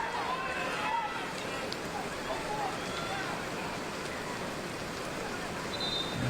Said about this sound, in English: the rain hammering down